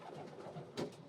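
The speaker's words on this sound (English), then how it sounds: "They are just blue bar pigeons," Young blue bar pigeons in a loft, soft low cooing murmurs rising and falling, with a brief louder rustle or flutter near the end.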